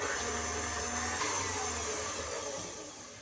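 An electric mixer whirs steadily through banana bread batter with an egg just added, a continuous close motor drone that holds for about three seconds before easing slightly at the end.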